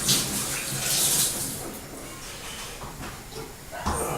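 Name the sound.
washing hands under running tap water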